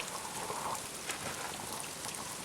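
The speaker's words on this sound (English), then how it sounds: "I thought it was rain." Steady rain falls on a campsite along the Pacific Crest Trail where hammocks are strung, making a soft, even hiss of drops with a few brighter patters, quiet and continuous with no talking.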